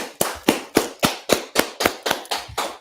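An audience at an evening scripture class in Washington DC claps in unison, about ten sharp, evenly spaced claps in a steady, fairly quick rhythm, loud and close, with no talking.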